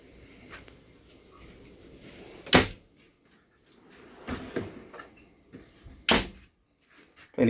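A slide-out pantry and drawers in a caravan are pulled open and pushed shut, giving several sharp sliding thuds and clacks spaced a few seconds apart, with soft handling rustles and no speech.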